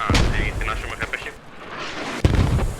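Heavy explosions boom in a game soundtrack, with deep thuds at the start and another sharp blast near the end, amid rumbling battle noise.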